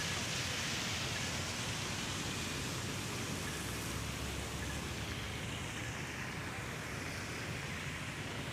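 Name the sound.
heavy rain with wind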